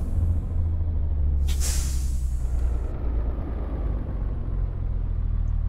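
An old Monobloco O-362 bus releases a sharp hiss of air brake, a single burst of about a second over a constant low engine rumble while the bus rolls on.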